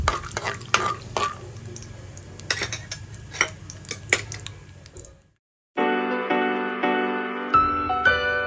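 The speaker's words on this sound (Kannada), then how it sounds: "ನಾನು ಫಸ್ಟ್ ಕಡಲೆಕಾಯಿ ಬೀಜನ ಹುರ್ಕೊಂಡು ಸೈಡ್ಗೆ ಇಟ್ಕೊಂಡ್ಬಿಡ್ತೀನಿ" Peanuts roast and crackle in hot oil in a pan, with steady stirring scrapes and sharp ticks close by, then a short pause before a denser sizzle picks up.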